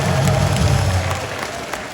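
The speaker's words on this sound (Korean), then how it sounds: "박수하겠습니다." Dense audience applause at a special education lecture in Pyeongtaek, loud and continuous for a couple of seconds with a faint murmur of the crowd underneath.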